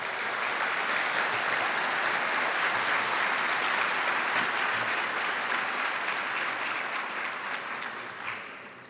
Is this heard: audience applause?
yes